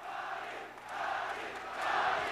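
Boxing arena crowd roaring and cheering after a Manny Pacquiao knockout, a loud sustained roar that dips briefly and then swells even louder, with no talk over it.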